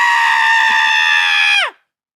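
A voice imitates a blood-curdling horror-movie scream: one loud, sustained, piercing shriek held for about a second and a half, then sharply cut off, followed by silence.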